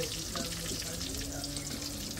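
Pointed gourd frying in a pan, a soft continuous sizzle with faint watery crackle, fairly quiet and steady throughout.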